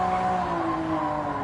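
Car engine braking in the Gran Turismo 7 video game, a steady droning engine tone easing slightly lower in pitch over a short stretch, heard alone.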